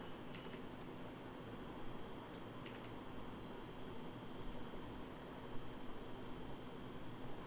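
Touch-typing practice on a computer keyboard at typingclub.com gives a quiet, continuous patter of key clicks with a few sharper taps mixed in and no voices.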